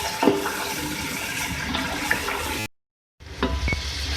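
A spoon stirs ginger-garlic paste and spices into chicken pulao biryani in a hot pan, making scraping, sizzling, moist sounds. There is a brief silent break, then more close stirring.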